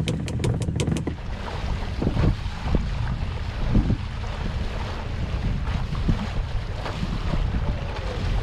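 A sailboat (a 1965 Morgan) gets under way under sail after leaving an anchorage: steady wind rush and water washing past the hull fill the whole stretch, with a few light knocks early on and no talking.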